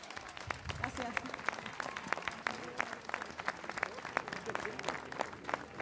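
Audience applause at a folk music night after a woman's song, dense steady clapping from a crowd lasting throughout, with a voice briefly speaking over it.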